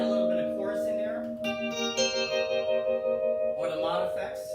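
Jazz guitar on a Williams Symphony Grand II keyboard, which can also serve as a Hawaiian slide steel guitar, played with a chorus effect: sustained shimmering chords ringing out alone, with a fresh phrase entering midway.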